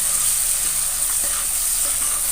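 Onions and tomatoes sautéing in a pan for a spicy dry fish gravy, a loud, steady hiss of frying oil with a few soft stirring taps, with no one speaking.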